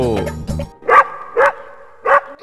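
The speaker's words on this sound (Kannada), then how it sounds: "ಲಳ್ ಲಳ್ ಬೌ ಎಂದು ಕೂಗಿ ಹೇಳುವೆ" A cartoon puppy in an animated Kannada children's rhyme barks in three short, bright yaps spaced evenly apart, right after a brief sung vocal note, loud and close.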